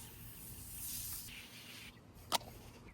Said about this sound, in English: You need to shake and just spray like this, and it also have a foam.